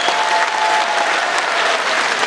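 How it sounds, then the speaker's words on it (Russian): Steady, dense applause from a concert audience at a gala of accordion and folk-song performers, filling the whole stretch loudly and evenly without a break. "Поэтому еще раз аплодисменты за этот великолепный праздник"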